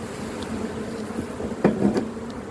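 Honeybees hum around hive colonies at an apiary in spring, a steady close buzzing drone with a few brief knocks near the end.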